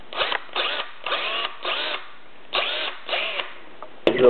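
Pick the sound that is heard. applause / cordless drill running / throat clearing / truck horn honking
cordless drill running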